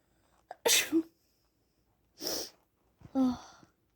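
Three close, forceful human sneezes come in quick succession, evenly spaced with brief pauses between them.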